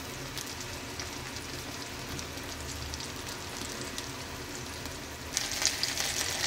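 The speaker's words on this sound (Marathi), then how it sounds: "हे बघा आता एक एक करून सोयाबीन सर्व तेलामध्ये सोडायचे।" Boiled soybeans fry in hot oil over medium-low heat, a steady, close crackling sizzle that runs continuously, brightening into a louder, hissier burst near the end.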